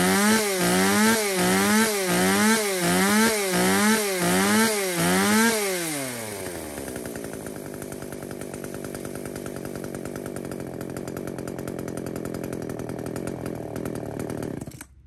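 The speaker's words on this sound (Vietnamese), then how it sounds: "Tiếng máy của này xem vòng tua nó có khỏe không ạ?" A STIHL or Husqvarna chainsaw engine revved repeatedly in quick rhythmic bursts, then held at a steady high roaring idle before cutting off, loud and close with no talk.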